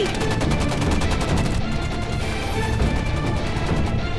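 Dense, continuous rapid gunfire crackling with heavy low booms in an action movie, loud and sustained throughout, no pauses between bursts.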